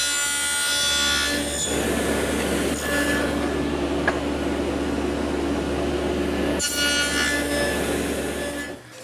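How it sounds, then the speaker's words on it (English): Power tool cutting away wood between the tenons of a highboy backer board, a continuous loud whirring and grinding rasp with brief dips as the cut pauses. "Now I can use those lines as references to remove the material to form the individual"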